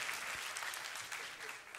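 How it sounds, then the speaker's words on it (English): A church congregation clapping steadily, a continuous wash of hand claps that stays even and fairly full throughout the short burst. "Give yourself a big hand clap."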